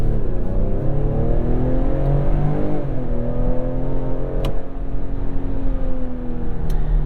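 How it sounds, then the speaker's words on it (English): A 2021 Ford Explorer ST's 3-liter twin-turbo EcoBoost V6 with a 10-speed automatic accelerates hard, a loud, steady engine drone rising in pitch through gear shifts, heard from inside the cabin. "this Ford Explorer ST has a 3-liter twin turbocharged EcoBoost V6 that's backed by a 10-speed automatic"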